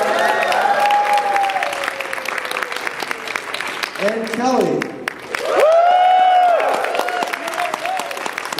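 At a sumo wrestling exhibition, a crowd applauds and cheers in sustained bursts that fade and swell again, while an amplified announcer speaks over the noise.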